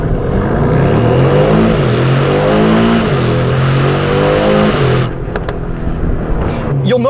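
Aston Martin DB12 launching in a 0 to 60 run, its engine roaring loud and close as the pitch climbs through gears with brief dips at each shift before settling.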